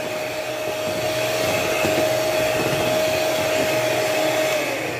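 Blender whirring steadily as it mixes kulfi ice cream ingredients with mango crush, a continuous close motor drone with a thin steady whine, running alone without talk.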